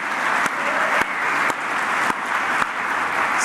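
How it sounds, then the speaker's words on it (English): Sustained applause from a crowd at an awards night for a club medal, loud and steady with a few sharper claps punctuating it throughout. "Round of applause."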